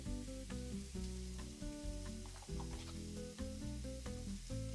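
About a tablespoon of butter melting and sizzling in a pan before a steak goes in, a steady close frying hiss that continues without a break under a sustained tonal background.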